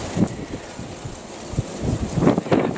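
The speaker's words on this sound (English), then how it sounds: "Can you hear me over this wind?" Gusty outdoor wind buffets the microphone in a kitchen garden, rumbling in uneven low bursts that swell louder toward the end, with no talking.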